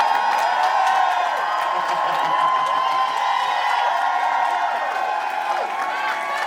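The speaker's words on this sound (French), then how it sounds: "Pour ce show exceptionnel d'entrée, on peut les applaudir, s'il vous plaît" Audience at a drag show final applauding and cheering the dancers, a dense sustained wash of clapping and whoops filling the room steadily throughout.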